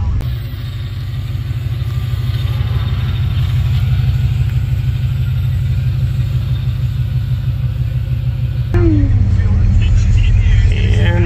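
A 1973 Buick Electra 225 with an LS swap, a stock 6-liter V8 and a Turbo 400 transmission, drives along with a loud, steady, deep engine rumble heard from inside the car; the engine note surges briefly near the end.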